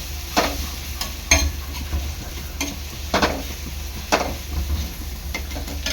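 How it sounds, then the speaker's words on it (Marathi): Onions frying in oil in a pan, a steady close sizzle punctuated by several sharp scraping stirs at irregular intervals. "दोन ते तीन मिनिटांनी आपल्या कांद्याला चांगलं तेल सुटलेलं आहे"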